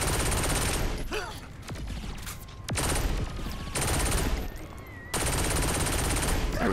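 Alien guns in Saints Row 4 fire in sustained automatic bursts, loud and close, with short breaks between volleys and sharp sci-fi zaps over the shooting.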